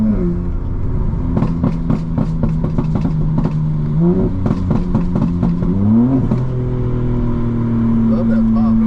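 In a racing video game, a car engine revs and drops repeatedly through gear shifts with crackling exhaust pops, loud and continuous, while voices talk over it.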